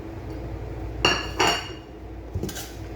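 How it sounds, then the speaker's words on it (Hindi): Pieces of mutton go into a metal pressure cooker with a few sharp metallic clanks and clinks, two close together and another shortly after, over a low background hum. "हम मटन को पहले कुकर में शामिल करेंगे।"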